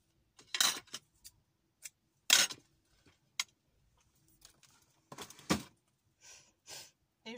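Scissors snip through a ribbon in a series of short, crisp cuts scattered over several seconds, each a brief sharp burst, close and fairly quiet with silence between.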